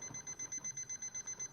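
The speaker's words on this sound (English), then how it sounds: "Our alarm is going off. It is vibrating." KOSPET Tank M4C rugged smartwatch alarm going off while vibrating, a faint, rapid, evenly pulsed beeping of about a dozen short bursts, heard alone.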